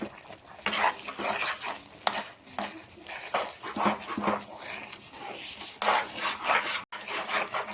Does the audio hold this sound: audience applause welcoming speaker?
no